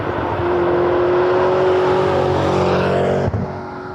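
A McLaren MP4-12C sports car drives with a loud, steady engine note that holds strong throughout, with a brief dip near the end, and no talking over it.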